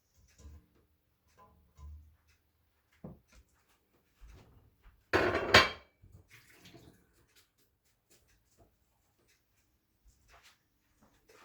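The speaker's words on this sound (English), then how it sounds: "So now I'm going to drain them. Put them right back into this pot." Cooked potatoes drained and tipped back into a pot in a home kitchen: a short burst of pouring, splashing water midway, surrounded by scattered clinks, taps and knocks of the pot and utensils.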